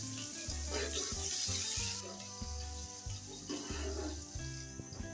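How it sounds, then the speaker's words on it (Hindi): Oil sizzles steadily in a pan as sliced onions fry with spices, a continuous hiss with occasional stirring, while background music plays throughout. "2 बड़े प्याज स्लाइस कटिंग में इसमें शामिल कर लें और इन्हें भी फ्राई कर लें"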